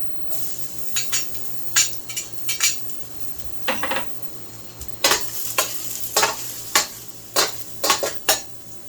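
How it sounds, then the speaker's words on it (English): Garlic dropped into smoking hot oil in a pan, sizzling sharply as a metal utensil repeatedly scrapes and clinks against the pan in quick irregular bursts, close and loud. "The pan is now smoking. In goes the garlic."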